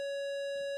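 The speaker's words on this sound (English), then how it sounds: "There's the square wave." A square wave signal from a signal generator plays as a steady, buzzy electronic tone rich in harmonics, loud and continuous, with no voices.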